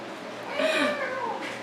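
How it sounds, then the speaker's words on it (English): A house cat lets out a single drawn-out meow with rising and falling pitch, fairly close and moderately loud in a quiet indoor room, with no talking over it. "Oh, darn that cat."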